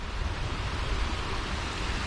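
Water from Wolli Creek flows into Cook's River in Sydney, heard as a steady broadband rushing wash with no pauses, fairly loud and unchanging throughout.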